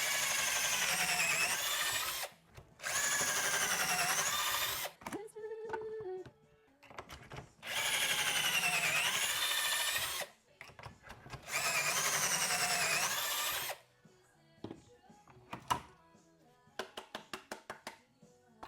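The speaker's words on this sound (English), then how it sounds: "So I'm just going to put pocket holes on the exterior side on both ends of all of the short pieces." A power drill bores pocket holes into the short wooden pieces of a drawer box for a kitchen island, several loud sustained whirring bursts separated by pauses and lighter clattering handling of wood and jig between them.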